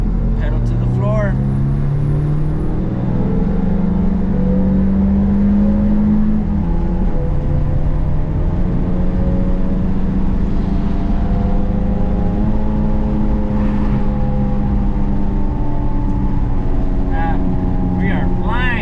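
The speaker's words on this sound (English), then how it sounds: "about to do a second gear pull with the fresh oil. Here we go. Pedal to the floor." A 2001-2005 Honda Civic, freshly oil-changed, pulls hard in second gear on a street in Mexico, its engine note climbing steadily in pitch as it accelerates at full throttle, loud and close, with a voice over it.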